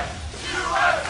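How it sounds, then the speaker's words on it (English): An esports arena crowd chants USA at a Team Mineski versus Vulcun TechBargains world championship match, a brief loud rhythmic group shout that swells toward the end. "And the crowd chanting USA in the background,"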